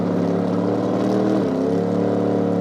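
A Duster drag car at a Nitro Nationals drag racing event at Toronto Motorsports Park, its engine giving a deep, throaty, steady rumble with a slight dip in pitch midway, loud and close with no talk.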